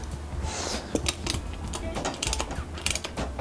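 Bolts being tightened on a trail-a-bike hitch, a run of small ratcheting clicks and metallic creaks, close and irregular, with no speech.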